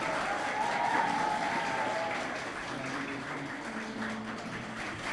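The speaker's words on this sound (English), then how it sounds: "Other teams, please give them a big round of applause." Applause from an audience at an agricultural university entrepreneurship programme award ceremony, a moderate crowd clapping steadily and fading slightly, with a faint voice or tone audible under it.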